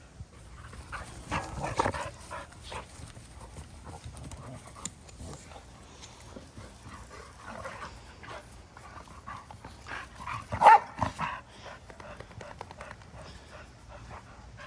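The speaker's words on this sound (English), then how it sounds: "That big bad pit bull right there." Pit bull dogs play together, giving off scattered barks, yips and whimpering sounds with scuffling in between, and one sharp louder bark burst midway.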